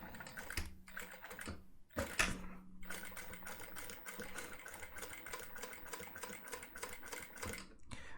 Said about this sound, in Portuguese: Vou costurar aqui. Então, vou costurar o mais próximo possível, sem atropelar.